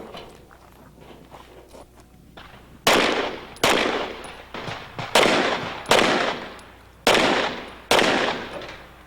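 Pistol shots from an IDPA defensive shooting competition string, Glock, Springfield and Colt guns in use: seven loud, sharp reports at uneven intervals, each with a quick decay, after a stretch of quieter shuffling and background noise.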